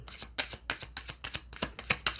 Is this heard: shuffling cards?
yes